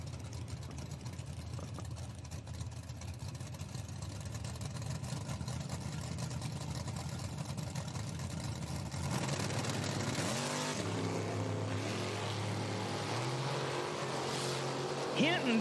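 A second-generation Camaro and a 1988 Mustang at an IHRA drag race, their engines rumbling steadily at a distance, then swelling into a louder roar as they launch, with an announcer's voice over the track noise.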